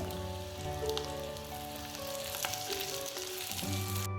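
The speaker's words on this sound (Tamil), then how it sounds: "வெங்காயத்தை இந்த எண்ணெயில் நல்லா வறுத்துக்கோங்க" Chopped onion frying in oil on a traditional mud dosa tawa gives a steady, close sizzle and crackle that holds throughout, with faint clinks and a low background hum and no talking.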